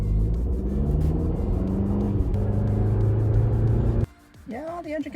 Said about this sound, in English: How loud is the engine,